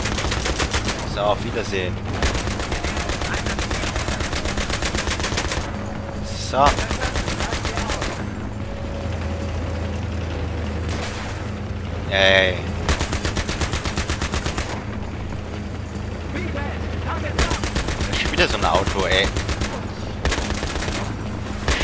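Machine gun fire in the shooter Battlefield 3 rattles in long, loud, sustained bursts with brief gaps between them, and someone talks over parts of it.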